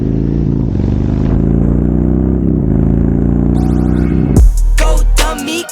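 Harley motorcycle fitted with ape hanger handlebars: a loud, close rumbling engine idles and revs, then pulls away, with a sudden burst of noise near the end as the rumble drops.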